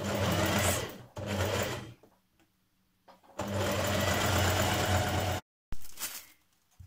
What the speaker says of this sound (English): I'm machine stitching it